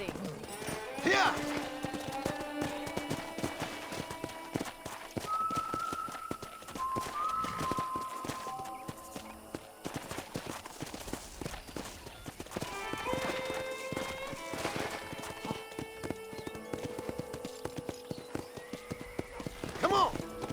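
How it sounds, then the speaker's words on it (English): A horse ridden in the Red Dead Redemption video game, with steady clip-clop hoofbeats at a trot or gallop and occasional whinnies, up close, with voices talking over it. "let's see if you can still ride a horse"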